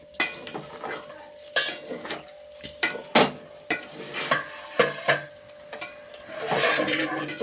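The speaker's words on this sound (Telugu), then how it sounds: "5 minutes అయింది కదా, ఒకసారి మూత తీసుకుని మళ్ళీ కలుపుకోవాలి." Biryani rice in a pot is stirred after the lid comes off, producing repeated scraping, clinks and knocks of a utensil against the pot in an uneven rhythm, close and fairly loud, with no talk.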